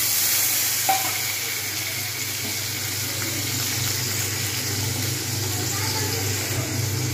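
Potatoes hit hot oil tempered with dried chili and whole cumin, producing a steady, loud, broadband sizzle that continues evenly throughout.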